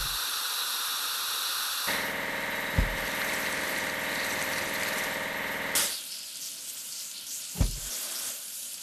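Water sprays in a continuous hiss while a box truck is washed in a children's construction game, starting abruptly, running steadily, then cutting off, with a few soft low thumps.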